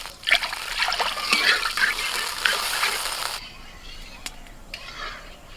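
Water is poured into a pan of fried ginger paste, making a loud splashing gush with clinks for about three seconds before it drops to a quieter simmer with a few faint knocks.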